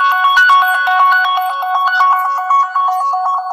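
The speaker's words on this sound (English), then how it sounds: "So basically what that's doing is ringing your phone." A Nexus Android phone rings through Android Device Manager, a loud, steady electronic ringtone of rapidly repeating two-tone pulses that plays continuously and alone.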